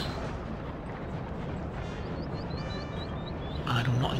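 Artillery shelling in Napoleon: Total War, continuous rumbling cannon fire and distant blasts that roll on steadily, topped by high whistling shells and a heavier boom near the end, with voices underneath.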